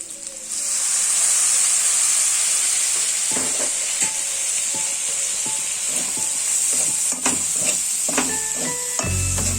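Fried rice with dark soy sauce sizzles loudly in a pan, a steady close hiss broken by repeated scrapes and knocks of a stirring utensil against the pan.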